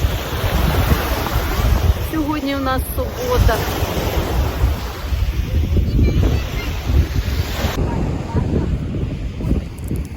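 Black Sea surf rolls and washes steadily onshore at Chornomorsk, mixed with gusty wind rumble on the microphone; a person speaks briefly near the start.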